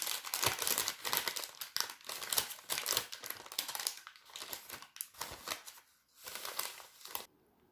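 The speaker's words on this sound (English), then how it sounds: "Place a parchment paper on a tray and pour the concentrated mixture." Parchment paper being handled on a tray while making homemade caramel candies, with close, crisp crinkling and rustling in irregular bursts that pause briefly near the end.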